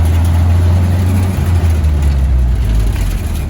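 An International Scout 80 engine runs steadily while the truck drives down a street, a loud, continuous low rumble with a slight dip in the middle and no talk over it.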